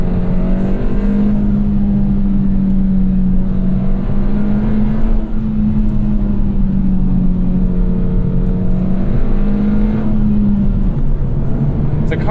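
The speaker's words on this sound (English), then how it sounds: "Engine's nice and torquey. That turbo comes in quick, pulls." A 2021 Hyundai Elantra N Line with a turbocharged engine pulls under acceleration, a steady close drone of engine note holding throughout with no talk.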